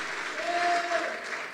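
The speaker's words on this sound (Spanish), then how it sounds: "Démosle fuerte esas palmas al bendito Rey" A church congregation applauding for the King during a sermon, a continuous broad patter of clapping with a faint tonal hum running beneath it.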